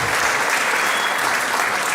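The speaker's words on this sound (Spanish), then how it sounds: "Bueno, aplausos para Ceci" Audience at an international UFO congress gives a burst of loud, dense applause, many hands clapping together close by for about two seconds.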